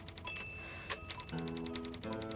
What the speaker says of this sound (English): I'm a fast typer.